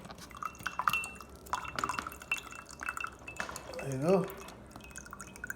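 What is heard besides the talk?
water draining from a coconut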